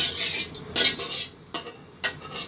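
Cumin seeds stirred in hot oil in a wok, with a few bursts of metallic scraping and clinking from the spatula against the pan and light sizzling between them, close and with no talk.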